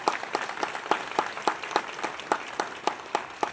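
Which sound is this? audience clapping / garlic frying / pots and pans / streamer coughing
audience clapping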